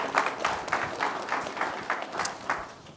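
Scattered applause from a small audience greeting a panel at an HBCU, HSI and TCU event, with sparse, uneven claps in loose bursts at moderate distance and no talking.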